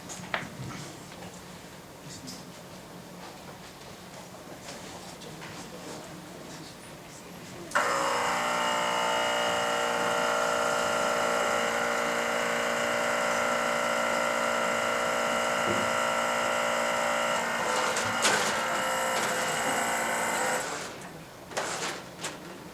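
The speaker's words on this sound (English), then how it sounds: "I'd like to demonstrate, or have a brief demonstration of this gear subsystem." A robot's gear subsystem starts up abruptly and runs with a steady motorized whine and hum for about thirteen seconds before stopping. It is heard in a quiet room, with light background noise before and after.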